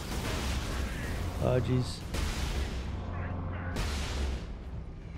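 Mortar fire in the Warhammer game Space Marine, two heavy booming blasts a couple of seconds apart over a constant din of battle, with a player talking briefly.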